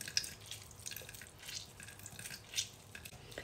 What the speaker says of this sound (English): Juice of a lime.